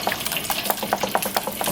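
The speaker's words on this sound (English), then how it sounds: "I'm gonna mix the pancake mix in there with that" Pancake mix is being stirred into buttermilk to make a batter, heard as quick wet slapping and clinking strokes in a bowl in a close, busy rhythm.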